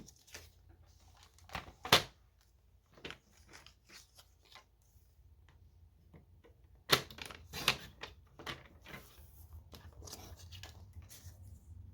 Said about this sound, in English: I'm just going to trim that down a little bit with my trimmer